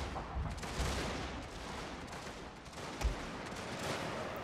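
Gunfire rings out in a strategy video game battle where cavalry charges enemy troops: a dense, continuous rattle of overlapping shots with a heavier thump near the end and no voices.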